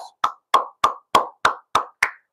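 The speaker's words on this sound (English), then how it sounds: "Let's give him a round of applause, guys." Eight crisp, evenly spaced claps from a single pair of hands ring out alone and close during a UFC fight-predictions live stream.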